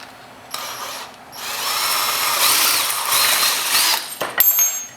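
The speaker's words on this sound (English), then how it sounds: "now I'm going to use this nice big pointy drill bit here" A power drill with a big pointed bit whirs up and bores steadily through wood, its pitch shifting under load, ending with a few clattering knocks.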